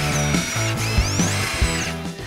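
Screws are driven into wood for an outdoor patio chair with a power drill. It makes a loud, close whirring drive whose pitch steps up and down in short bursts, with no voices.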